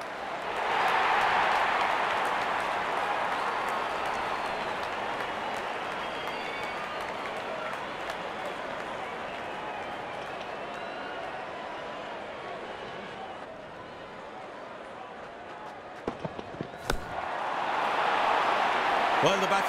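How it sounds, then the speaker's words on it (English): Stadium crowd at an India versus South Africa T20 cricket match cheers and applauds as the openers walk out, a broad steady roar that dips midway and swells again near the end, with commentary voices over it. "Openers walking in and the crowd cheering in anticipation."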